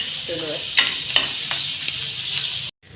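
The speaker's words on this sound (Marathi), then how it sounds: "कांदा आणि मिरची आपण एकत्रच टाकू" Onion and chili frying together in a pan, a bright hiss with a few clattering stirs of a spoon, close up, ending in a brief moment of silence.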